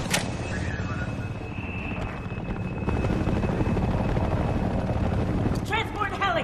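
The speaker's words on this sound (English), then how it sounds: "Transport heli! More of them!" Transport helicopter in the Homefront video game thrumming loudly with a heavy rotor drone, steady and near, joined by sharp gunfire-like bursts near the end.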